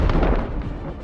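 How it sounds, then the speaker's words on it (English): Loud explosion sound effect in a tabletop fantasy game scene: a sudden heavy boom with deep rumbling low end that decays quickly over about a second, with no talk. "there's a loud explosion"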